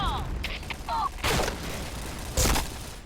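Gunfire rattles in a Point Blank match, short bursts of shots and booming impacts breaking through a busy in-game soundscape, with a voice briefly audible over the action.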